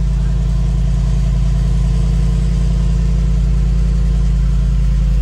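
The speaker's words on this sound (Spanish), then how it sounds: "para que suene un poco más fuerte este motor V8" A Mercedes-AMG G63's 4-litre biturbo V8, rated at 585 hp, runs at a steady, loud, deep idle. The rumble is close and continuous, with no revving and no voices.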